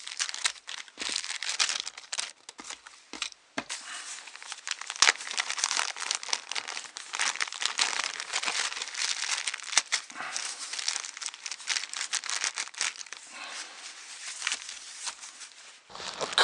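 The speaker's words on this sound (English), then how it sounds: "For single-use items, one-way plastic money bags are great. You can open them one-handed and even use your teeth if you need to." A plastic one-way money bag crinkles and rustles up close as it is opened one-handed. The soft, dense crackling continues unevenly for several seconds.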